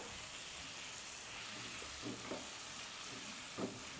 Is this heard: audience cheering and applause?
no